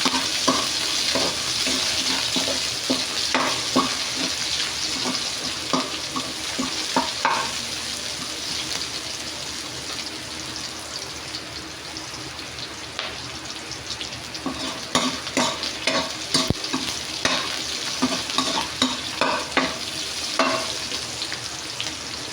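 Onions stir-frying for spicy adobo in a pan, a steady close sizzle with repeated scraping stirs throughout, no voices.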